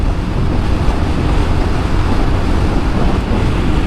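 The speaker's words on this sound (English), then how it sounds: "it is a windy day, and we are against the wind" Loud, steady wind roaring and buffeting throughout while riding a Royal Enfield Guerrilla 450 motorcycle on a motorway against the wind, a dense broadband rush with no pauses and no voices.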